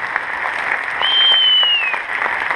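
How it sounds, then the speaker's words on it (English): An audience at a school science award ceremony applauds bronze medal winners from the middle school, giving steady, moderately loud clapping with a high whistle-like tone briefly rising above it. "Let's give our bronze medal winners from middle school a round of applause."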